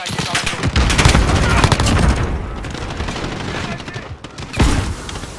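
Call of Duty MW gunfire in a Headquarters match on the Shoot House map: loud, rapid automatic bursts crackle almost nonstop, ease off briefly, then return with a sharp burst near the end.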